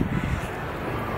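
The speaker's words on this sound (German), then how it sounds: "Ja, es ist windig. Ja, ich hoffe, es ist nicht zu windig und es hört mich." Wind buffets the microphone on a train station platform, a dense, steady low rumble with a heavier gust at the start, close and continuous for about a second.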